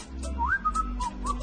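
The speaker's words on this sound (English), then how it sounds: "Did you just whistle?" A person whistles a short wandering tune, clear and close, over a low steady hum with no talking.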